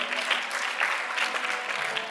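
Steady applause from a seated audience at a community award ceremony honouring students, continuous and fairly close, with no voices over it.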